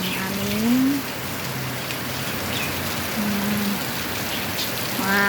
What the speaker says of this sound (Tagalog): Grabe ang ulan dito, guys. Ang lakas-lakas ng ulan, guys.